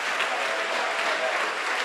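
A church congregation claps in a brief, steady burst of applause at moderate volume, with no voices heard over it.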